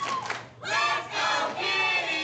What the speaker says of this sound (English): listen to the crowd getting behind Kitti here early